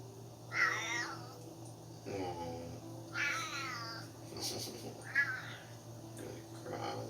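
A pet cat meows several times in a kitchen where sugar and glucose are being measured for sour grape drops, its cries close and clear over a low steady hum.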